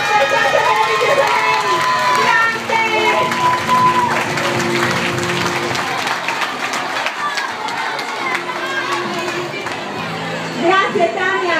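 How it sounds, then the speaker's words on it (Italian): An audience applauds and cheers at an Italian youth poetry and storytelling event, a sustained wash of clapping with overlapping voices, children among them, and someone speaking over the crowd. "ogni anno una vittoria, un applauso meraviglioso per Tania"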